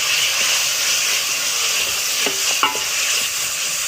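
Mutton with black pepper, dried coriander, cumin and fenugreek being stirred in a pot over steady sizzling, with a few scrapes and clinks of the spoon against the metal.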